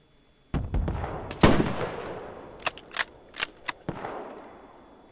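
Tank fire in the Roblox war game Guerre de l'Est 2.5: a series of sharp, loud blasts at irregular intervals, the first few heavier, the later ones quicker cracks that fade over a few seconds.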